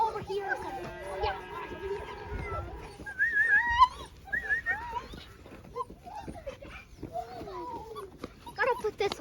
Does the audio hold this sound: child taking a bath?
no